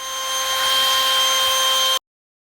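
Steady, loud air blower whoosh drying a car tire and wheel, holding a constant hiss before cutting off abruptly.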